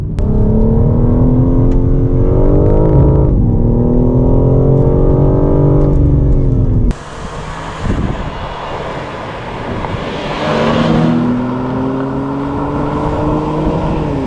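A BMW M4, a car that can be tuned toward 1000 horsepower, sounds off with a loud, steady engine drone and pitch shifts as it revs, then a rougher, noisier stretch of acceleration.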